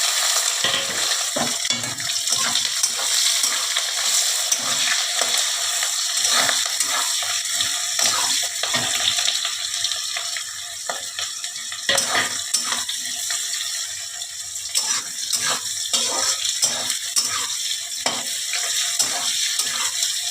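Green chilli and onion fry in hot oil with cumin seeds, bay leaf and dried red chilli for a wedding-style chhyachra, a steady broad sizzle broken by frequent sharp clicks and scrapes of a spatula stirring, close and continuous throughout.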